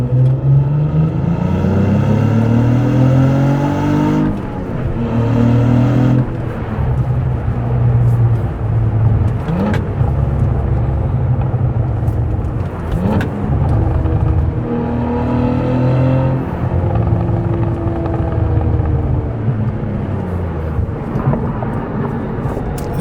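Cadillac CT4-V Blackwing engine revs hard and loud as the car is driven through corners, rising and falling in pitch with quick shifts and brief lifts, a continuous roar with no talk.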